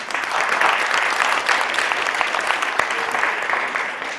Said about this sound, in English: So let's give the recipients another round of applause.